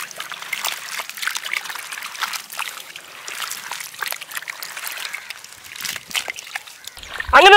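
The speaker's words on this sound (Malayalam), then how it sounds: "അതൊക്കെ നമ്മൾ ക്ലീൻ ആക്കി എടുക്കാനായിട്ട് നല്ലോണം വെള്ളത്തിലിട്ട് നമ്മൾ കഴുകിയെടുക്കണേ" Fresh strawberries being washed in a basin of water, with a steady trickling and sloshing that stays soft and close throughout, ending in a brief louder splash.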